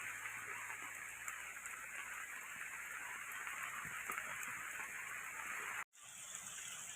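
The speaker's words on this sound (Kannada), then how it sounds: "ನಿನ್ನೆ ನೈಟ್ ಸ್ಟಾರ್ಟ್ ಆಗಿದೆ ಮಳೆ" Steady rain hisses in the background, a soft continuous wash with occasional drips, briefly cut out near the end before resuming.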